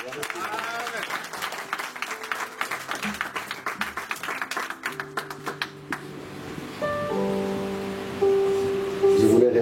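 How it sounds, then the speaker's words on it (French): Church congregation applauding and cheering at a French-language service, a dense patter of clapping that swells and holds steady, with a sustained musical or crowd tone rising toward the end. "Donnons des acclamations encore une fois."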